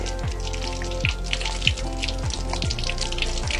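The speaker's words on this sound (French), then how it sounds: "J'ouvre à nouveau le robinet" Tap water runs steadily while hands are washed at a sink, a continuous splashing hiss with a few brief clinks and faint low hum underneath, close and moderately loud throughout.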